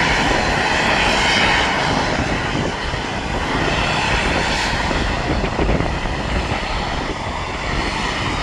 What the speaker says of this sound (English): Yeah, that's definitely a fire plane.